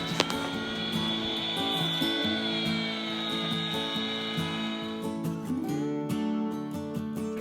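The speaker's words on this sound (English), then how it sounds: "peeling one of our first logs with a Makita curve-based planer" A Makita curved-base power planer peels bark from a log at a remote off-grid Alaskan log cabin build, a loud, steady high-pitched whine that holds for several seconds before the pitch drops and it winds down.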